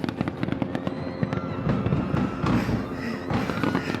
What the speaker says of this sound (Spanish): Se escuchó en medio de los gritos y disparos